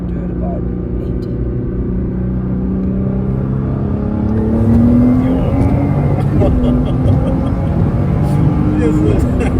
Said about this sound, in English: We'll do a higher gear pull. We'll do it about 80.